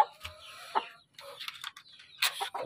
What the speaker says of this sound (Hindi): ये आ गए जी नए मुर्गे।